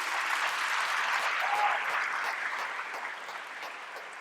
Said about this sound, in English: Let's give them one more hand of applause before they graduate.